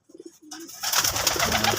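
A racing pigeon in a small backyard loft gives a few soft, close coos, then a louder, broader burst of cooing and fluttery noise fills the rest of the moment, with no speech.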